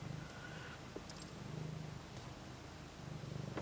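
A small cat purrs close by as it settles on a table indoors, a low, steady rumbling hum that holds throughout with gentle rhythmic swells and no talking.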